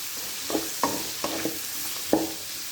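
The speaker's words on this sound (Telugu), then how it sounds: "పసుపు వేసుకుందాం, తర్వాత కాకరకాయ ముక్కలు వేసుకుందాం. బాగా కలుపుకోవాలి." Bitter gourd pieces with turmeric stir-fried in a pan for a bitter gourd fry, a soft sizzle under a handful of separate spatula scrapes and knocks, fairly close; no voices.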